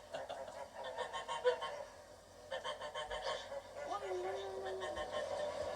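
Several geese honk and call in short bursts nearby while eating spilled wheat, overlapping and irregular, with a faint steady background hum.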